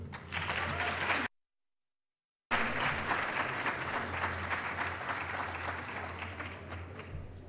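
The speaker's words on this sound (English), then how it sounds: "Please let's get a round of applause." Audience applause at the close of a long live evening event, a steady patter of many hands clapping, cut by a brief gap of silence before resuming just as strongly.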